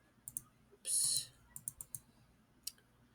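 Computer keyboard keys and mouse buttons clicking at a desk during photo-editing work: a handful of sharp, close, isolated clicks spread irregularly, with one longer burst of rapid clatter near the start.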